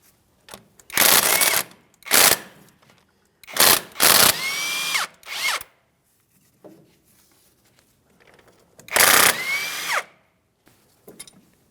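An impact gun spins out the 18mm caliper slider pins on a 2007-2014 GMC Sierra 2500 HD rear brake in several loud, close bursts separated by short pauses. Metallic clinks and small handling noises fall between the bursts.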